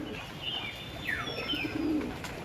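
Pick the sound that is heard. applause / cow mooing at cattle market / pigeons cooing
pigeons cooing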